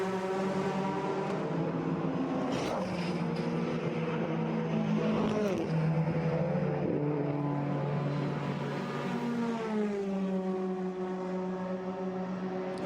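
TCR Europe touring cars pull out of the pit lane at Spa, several engines droning and rising in pitch as they accelerate away, with overlapping whines at moderate distance and a faint voice underneath.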